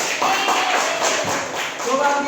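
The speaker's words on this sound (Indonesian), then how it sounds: "Beri tepuk tangan kepada kita semua" Classmates clap after a classroom presentation, a short burst of scattered hand claps mixed with shuffling and overlapping voices nearby.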